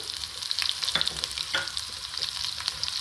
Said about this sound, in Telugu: ఇలా కొంచెం బ్రౌన్ కలర్ వచ్చే వరకు వేయించుకుందాం